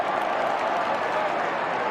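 A large football crowd at an AFL match between Essendon and Richmond cheers and applauds after an Essendon goal, a steady, dense roar of clapping and shouting that holds level throughout.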